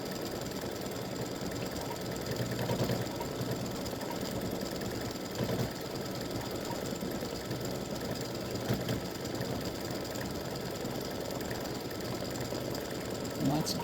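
A home embroidery machine stitches a set of soccer-ball earrings, its needle running in a steady, fast mechanical chatter that continues unbroken at moderate volume throughout.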